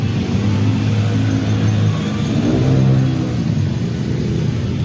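A repaired car engine idles steadily up close after a broken, loose part was replaced, a loud low rumble with a slight rise in revs midway and no talk.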